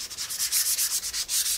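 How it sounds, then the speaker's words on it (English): A small sanding disc rubs down a raised area on an unprimed painted landscape surface, giving a rapid series of harsh, close scratchy strokes in a steady back-and-forth rhythm, with no voices. "I'm going to take just a little sanding disc and just knock down the raised"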